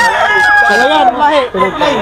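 A rooster at a busy chicken market crows loudly and close, its harmonic call rising and falling over about two seconds, with a brief break near the middle.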